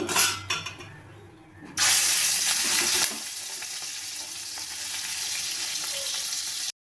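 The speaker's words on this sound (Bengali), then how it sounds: "এবার আমি চিংড়ি মাছগুলো ভেজে নেব।" Shrimp dropped into hot oil in a kadai or wok: clinking stirring first, then a sudden loud sizzle that settles into a steady, close frying hiss.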